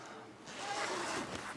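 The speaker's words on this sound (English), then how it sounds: "We'll start zipping it up here." A zipper is drawn along the fabric hot box enclosure of a 3D printer, a steady close rasping that runs for about a second with no talk over it.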